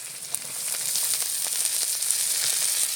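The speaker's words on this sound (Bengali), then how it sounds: "এপাশে মশলাটা হয়ে গেছে, চিংড়ি মাছ দিয়ে দিচ্ছি।" White shrimp tossed into a pan of spice paste frying in hot oil, giving a loud, steady sizzle and crackle that carries on throughout with no talking.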